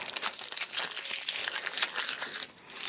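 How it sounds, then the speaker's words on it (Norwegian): Tape is peeled off fabric while sewing a jacket, a continuous close crackling and crinkling that runs for a few seconds without talk. "Fjern teipen."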